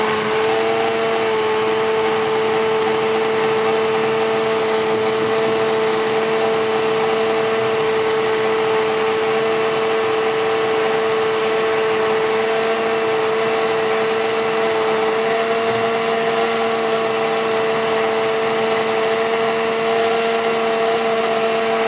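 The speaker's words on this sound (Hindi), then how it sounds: "अब इसे ग्राइंड करेंगे अच्छे से, ताकि तमाम चीज़ें अच्छे से मिक्स हो जाए" A blender runs steadily at high speed, grinding a weight-loss drink of black salt and lemon juice, its loud continuous whine and motor hum unbroken for over twenty seconds with no voices.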